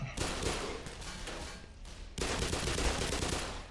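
Rapid gunfire from the first-person shooter Black Mesa, dense bursts of automatic shots running continuously and loudly across the whole stretch, with a brief dip before the firing swells again.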